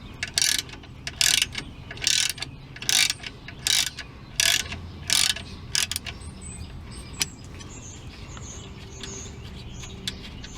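A ratchet wrench clicks in repeated bursts while loosening the nuts on a Ford F150 front shock. There are about seven bright, close rasping strokes with short pauses between them, then the clicking fades to faint ticks.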